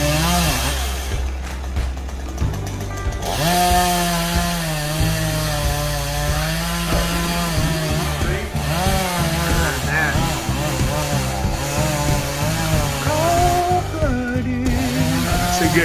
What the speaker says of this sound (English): It's a good steel chainsaw.